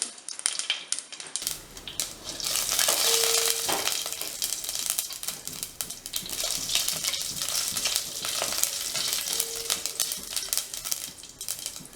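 Mustard seeds and urad dal spluttering in hot coconut oil for a carrot thoran, a dense crackling sizzle with sharp pops, steady and close throughout with no talking.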